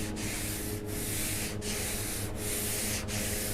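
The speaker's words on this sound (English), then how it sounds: "You're using a very coarse sandpaper, probably an 80 grit." Steady, continuous sanding of a 1938 Lincoln Zephyr car body panel with coarse 80-grit sandpaper in broad sweeping strokes, a loud rasping rub with brief dips about every 0.75 seconds as each stroke reverses.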